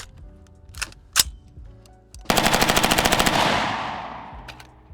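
AR-15 rifle with an FRT trigger and Geissele H3 buffer, unsuppressed, firing a few single shots then a loud rapid burst of about a dozen rounds close by, echoing off afterward.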